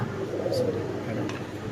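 A Kormona pigeon gives a low, soft coo close by, with a faint voice in the background.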